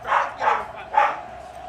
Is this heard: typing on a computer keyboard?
no